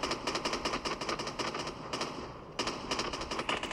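Rapid automatic gunfire in Call of Duty Mobile, sharp bursts of shots in quick rhythmic succession with a short pause, loud and close.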